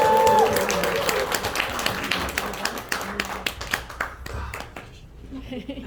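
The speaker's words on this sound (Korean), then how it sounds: "자, 나오실 때 우리 뜨거운 박수, 큰 함성 박수로 맞이해 주시기 바라겠습니다." An audience at a health lecture claps to welcome a speaker to the stage. The loud, dense applause thins into scattered individual claps and fades out, with a voice briefly audible at the start.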